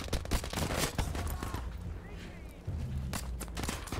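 Rapid bursts of gunfire in Battlefield 5 crackle as sharp, repeated shots in quick clusters amid battlefield noise, fairly quiet overall, with a player talking underneath.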